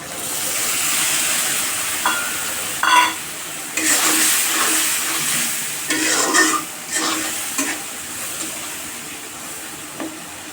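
Spices and salt are sautéed in a hot pan for a raw papaya and beef curry, with a loud continuous sizzle broken by repeated scraping and stirring strokes of a spoon against the pan.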